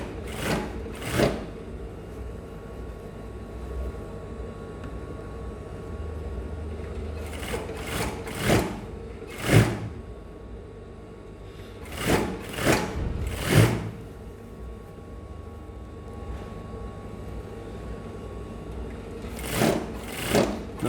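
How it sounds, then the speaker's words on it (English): A sewing machine stitches a hoodie in short whirring bursts, each lasting about a second, separated by pauses, close and fairly loud. "So I'll come back to this side and continue my sewing"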